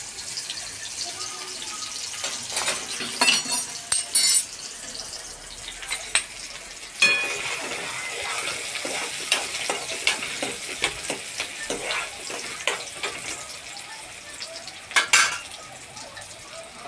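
Chopped onion tipped into hot oil already holding chili powder and cumin seeds, sizzling and frying steadily up close, with the clink of a spoon stirring against the pan throughout.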